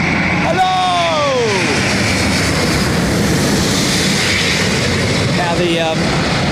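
A Finnair jet airliner landing at London Heathrow roars loudly and steadily throughout, with a descending engine whine early on and a voice talking over it.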